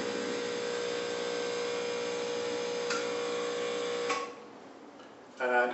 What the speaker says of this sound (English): And as you see, the pump will fill the boiler.